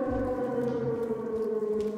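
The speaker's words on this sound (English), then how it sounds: "This siren, yo, this siren." A steady wailing siren in the Silent Hill 2 Remake video game drones on continuously at loud volume, its layered tones held throughout with a low rumble underneath and no talking.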